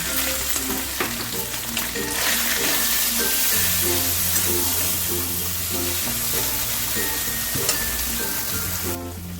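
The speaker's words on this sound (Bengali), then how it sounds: "অল্প আদা লঙ্কাটা তেলের সাথে একটু নাড়াচাড়া করে এবার আমি ডাল বাটাটাকে দিয়ে দিলাম" Lentil paste frying in hot oil with ginger and green chili, a loud close sizzle with repeated rhythmic spatula scrapes and knocks against the pan, continuous throughout.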